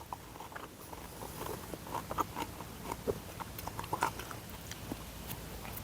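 Repeated crisp bites and close-up chewing of a crunchy, sweet Karene nectarine, steady crunching textures running for several seconds with no talk.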